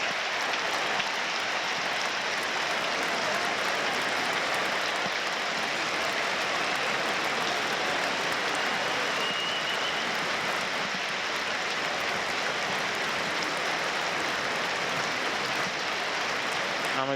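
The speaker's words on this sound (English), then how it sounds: "Another spontaneous applause breaks out around the ground." Crowd applause spreads around the stadium at Sunderland AFC's football match against Plymouth Argyle, a dense, steady wash of clapping that holds at an even level throughout, with no voices standing out.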